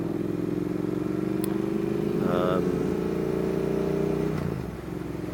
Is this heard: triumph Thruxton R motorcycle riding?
yes